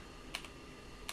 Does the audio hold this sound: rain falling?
no